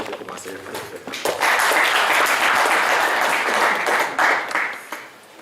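An audience at an official gathering with provincial government members breaks into broad, dense applause that swells after a second and holds steady, with voices mixed in.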